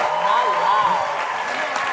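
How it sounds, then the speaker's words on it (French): Audience applause for a guest judge on a French-language talent show, brief and fairly steady clapping with voices and a whistle-like tone riding over it. "je voudrais ça qu'on applaudisse notre juge invité qui est vraiment malade à date"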